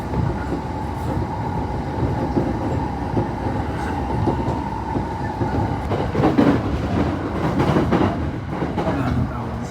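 A train runs along the rails, heard from inside the carriage as a loud, steady rumble with a faint whine and rhythmic clicks and clatters of the wheels building toward the end.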